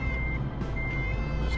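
Reversing beeps from a truck in Euro Truck Simulator 2 as it backs toward a fuel trailer, a steady high tone over a loud continuous engine rumble.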